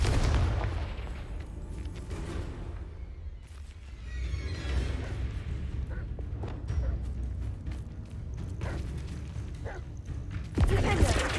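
Repeated blasting-spell explosions from the Hogwarts Legacy video game, a string of booming bursts over continuous rumbling game ambience, with heavier impacts near the end.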